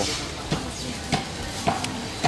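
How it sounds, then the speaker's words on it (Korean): A knife shaves the skin of pork at a busy market stall, making rasping scrapes that come in a steady rhythm of about four strokes, each a short broadband swipe, close by and with no talk. "항상 이렇게 껍데기 면도를 하고 그러고 팔더라고"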